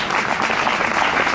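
Dense applause from diners at a bicycle advocacy dinner, dance and awards night, a loud, even wash of many hands clapping close by for a brief moment.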